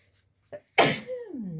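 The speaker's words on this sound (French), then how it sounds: "j'ai envie d'éternuer" A single sharp sneeze, close and loud, preceded by a quick intake of breath and trailing off into a falling vocal tail.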